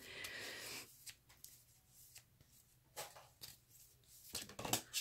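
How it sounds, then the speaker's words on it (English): Tarot cards are shuffled close up in a quiet room, a soft continuous riffle and shuffle at first, then a run of sharp flicking snaps and taps as the deck is worked by hand. "as I'm praying over the cards and shuffling them"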